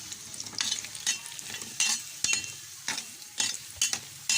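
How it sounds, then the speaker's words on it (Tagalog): Marinated chicken necks frying in a pan, a steady sizzle broken by repeated bursts of louder crackling and spattering as the pieces are stirred, close and fairly loud, with no voices. "Prito muna tayo bago natin igisa yung minarinate natin kaninang leeg."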